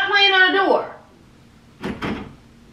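A door is rattled and knocked about in a home as someone plays with it, two quick clunking thumps close by, following a voice speaking.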